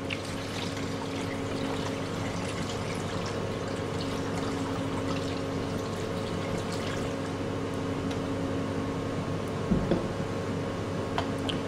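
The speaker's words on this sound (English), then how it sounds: "Transfer all the solutions to a 1 litre brown storage bottle." Laboratory reagent solutions pour into a 1 litre brown glass storage bottle with a steady, continuous liquid rush over a low background hum.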